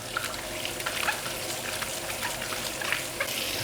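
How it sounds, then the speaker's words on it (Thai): Green apples are scrubbed by hand under running water, a steady trickling tap stream with soft splashes and rubbing close by. "ส่วนแอปเปิลเขียวผมก็จะล้างโดยวิธีการขัดนะครับ"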